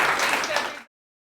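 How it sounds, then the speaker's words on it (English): Audience applause for the speakers at a hydrogen energy event in Kansas, a dense, steady patter of many hands that holds for under a second and then cuts off abruptly into silence. "Round of applause for our speakers."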